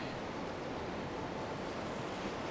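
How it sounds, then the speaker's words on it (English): Ocean waves washing up on the beach at New Smyrna Beach, Florida, a continuous broad roar of surf and rushing water with wind buffeting the microphone, steady and fairly loud with no voices. "Just in time for the water to come up and wash this up for me."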